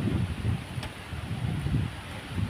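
Gusting typhoon wind in Taiwan buffets the microphone, a low rumbling roar that rises and falls in uneven surges, fairly faint overall with no voices.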